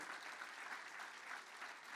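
A congregation at a cathedral anniversary service applauds, a soft, sustained patter of many hands clapping at a distance with a gentle swelling rhythm.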